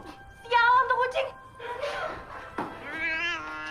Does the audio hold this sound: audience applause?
no